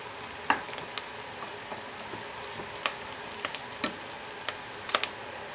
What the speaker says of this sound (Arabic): انا عايزه بس البصل يدبل معايا، مش عايزه احمره